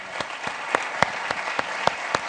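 An audience at a football film festival talk sends off three panelists with applause: brisk clapping with several sharp, louder claps standing out at a fairly regular pace over about two seconds.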